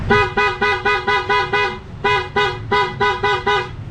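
Stock horn of a Honda Click scooter sounding in a rapid series of about a dozen short, loud, nasal beeps, a brief pause midway, then more quick toots.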